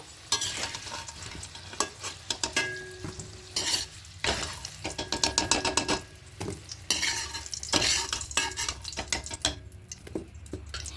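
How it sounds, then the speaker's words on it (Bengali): Potatoes fry with a steady sizzle in a wok while a utensil stirs and scrapes them in repeated bursts of clatter, close and fairly loud with no talking. "আলুগুলো এখন লাল লাল করে ভাজা হয়ে গেছে এবার আলুগুলোকে তুলে নেব"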